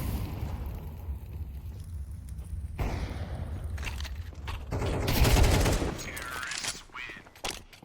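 Rapid bursts of automatic gunfire from a competitive esports shooter match, including an MP9 submachine gun emptied at close range, swelling into a loud dense volley before trailing off, with commentary voices beneath.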